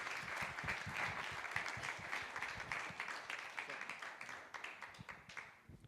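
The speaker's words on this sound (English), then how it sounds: "Can we have a round of applause," A room full of people at the launch announcement of a poker league applauds, with clapping that starts strong and thins into scattered individual claps toward the end, while speech sits in the background.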